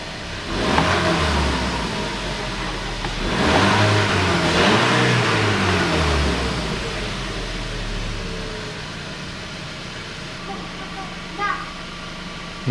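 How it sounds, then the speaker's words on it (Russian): A Volkswagen Beetle 1.4 engine with a lit check-engine light fires up and revs, then drops back to a steady idle with a fluctuating hum. Speech is heard over it, and there is a short knock near the end. "Запускаю автодвигатель."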